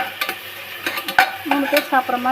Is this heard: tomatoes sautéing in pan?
yes